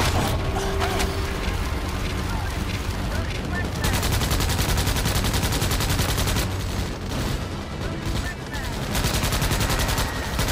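Dense gunfire and heavy blasts from a sci-fi battle in Starship Troopers Extermination, with a grenade explosion lost in a continuous loud barrage of rapid shots and booms.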